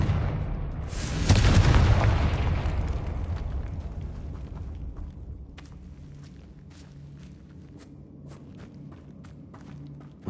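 A Confringo explosive spell blast in Hogwarts Legacy: one loud booming burst near the start that rolls off into a long fading rumble, followed by faint scattered footsteps and small clicks.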